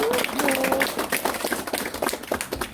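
Applause from a crowd at a political party assembly, a scattered patter of hand claps that thins and fades over a few seconds, with a voice briefly heard at the start.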